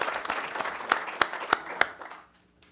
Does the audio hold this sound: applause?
yes